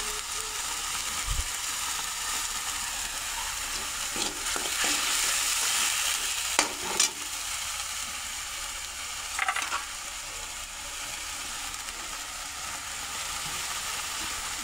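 Curry leaves and bay leaves frying in oil in a pan for chole, a steady close sizzle with occasional scraping stirs and a few louder crackling bursts, with no one speaking.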